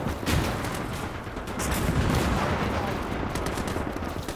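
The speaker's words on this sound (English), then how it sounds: "It looks like they're taking quite a bit of fire here at the front." Battlefield gunfire along a Soviet-German front line in the WWII strategy game Gates of Hell, with tanks in the fight: a continuous dense rumble of distant shooting and booms, steady and loud throughout.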